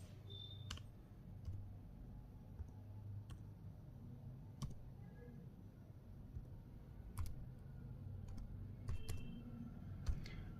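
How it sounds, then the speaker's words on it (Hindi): A PAN card number is typed on a computer keyboard during an online passport application, with sparse, faint key clicks scattered over a quiet background hum. "यहाँ देखिए हम पैन कार्ड का नंबर भरते हैं"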